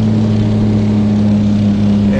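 A helicopter idles on the ground before takeoff, its engine and rotor making a steady, loud drone with strong low tonal hum, continuous and close throughout.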